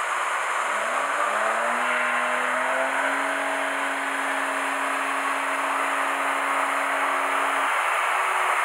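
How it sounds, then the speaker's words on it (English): Audi A4 engine revving up quickly and holding at the rev limiter, a steady loud sustained tone with a faint high whine, then dropping off near the end; no talking. "let's see if we can see a difference in the rev limiting"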